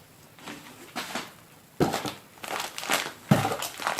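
Packing paper crinkles and crumples close up in several bursts while unboxing an MGW shifter for a 2015 Mustang GT, loudest near the middle and end, with quiet pauses between handlings.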